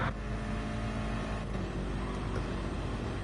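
V8 race cars in the Flat Out racing game running bumper to bumper through Eau Rouge at Spa, a loud, steady, close engine roar that holds without a break.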